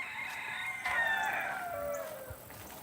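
A rooster crows once, a long drawn-out call at moderate distance, with faint farmyard sounds around it.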